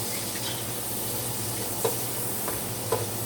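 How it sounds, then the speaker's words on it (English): Food with 3-in-1 seasoning sizzles steadily as it caramelizes in a pan, with a couple of faint utensil taps and scrapes from stirring. "And we're going to stir that."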